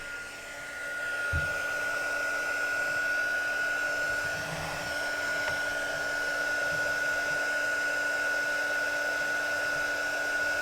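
A heat gun warms the housing of an Xbox One Kinect so its cover can be removed, making a steady, close, continuous blowing hum with a faint whine that runs unbroken for about ten seconds.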